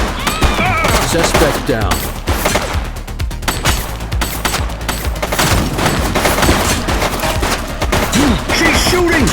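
Gunfire from the video game The Precinct, rapid bursts of shots crackling loudly through the scene in irregular volleys, with a voice speaking briefly over the shooting.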